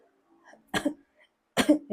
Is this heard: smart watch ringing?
no